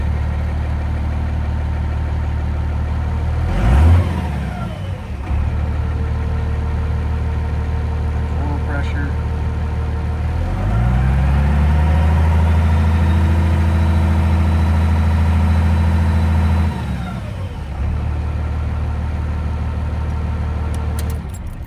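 A 1973 Chevrolet C/K30 truck engine cranks and fires, idles steadily, then is cranked and revved again into a loud, low, rumbling idle before settling back down, close and continuous throughout.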